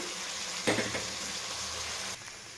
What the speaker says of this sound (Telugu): రైస్ అనేది యాడ్ చేసుకొని మిక్స్ చేసుకున్నానండి కొంచెం సేపు వేగాలి